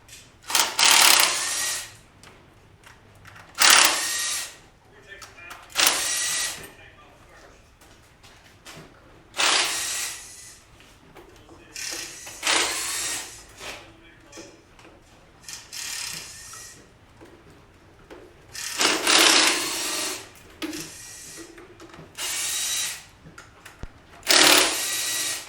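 A power tool zips 8mm intake bolts off a 6.0 LS engine, with about ten short whirring bursts close by and quiet gaps between them.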